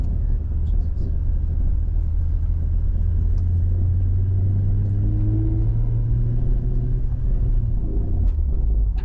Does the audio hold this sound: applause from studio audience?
no